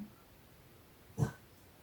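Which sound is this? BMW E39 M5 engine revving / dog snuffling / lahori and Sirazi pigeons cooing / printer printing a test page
dog snuffling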